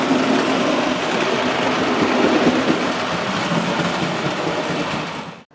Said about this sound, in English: the first train on the down today is the Western Semi-Fast, and that's got a Grange on the front